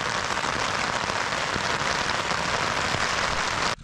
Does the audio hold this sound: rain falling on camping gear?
yes